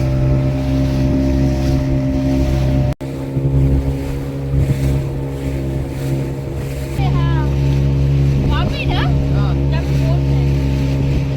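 Boat ride on the sea off Malvan, heard as a loud, constant motor drone with wind buffeting and water rush, while people talk and exclaim over it.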